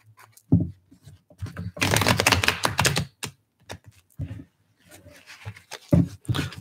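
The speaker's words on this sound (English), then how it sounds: "Let's do one more shuffle." Tarot cards shuffled by hand in several bursts, crisp riffling and slapping close up, separated by short quiet gaps.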